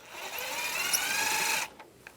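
A Phillips head screwdriver backs a screw out of an ambient light sensor mount on a 1999-2006 Chevrolet Silverado 1500 dashboard, giving a steady close scraping, whirring grind that runs for about a second and a half, then stops with a couple of faint taps.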